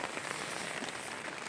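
Steady rain falls outside at night near a shelter, a dense, even hiss of drops on surfaces lasting throughout with no talking.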